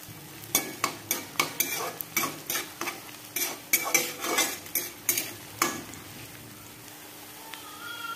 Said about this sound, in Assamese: পিয়াজখিনি আধা ভজা হৈ যাওঁতে মই আদা নহৰু পেষ্টখিনি দি দিছোঁ